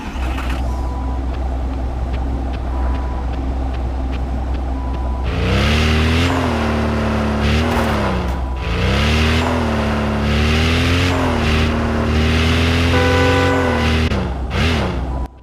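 Car engine in the mobile driving game Car Parking Multiplayer 2, switched off and then started again: a steady idle, then a restart with loud rising and falling revs that dominate the rest of the clip, with no talking.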